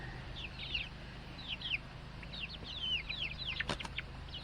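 Several chickens cluck and chirp softly in short, overlapping calls, with a low steady hum underneath and a brief sharp knock near the end.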